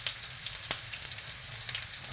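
Sliced potatoes sizzle in a hot frying pan for a frittata, a steady crackling fry with scattered sharp pops, fairly quiet and alone.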